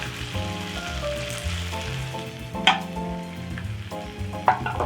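A thick pancake of 300 grams of grated potato fries over very low heat, giving a steady, close crackling sizzle with a couple of sharper pops. No one speaks.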